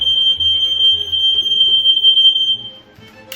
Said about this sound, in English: Mind the smoke alarm, guys.